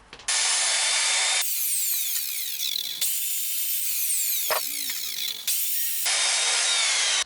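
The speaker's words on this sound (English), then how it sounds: "So I'll cut that now on the chop saw." A cordless chop saw whines steadily through pine wood in two long passes, with a brief pause and a higher-pitched run between them, loud and close.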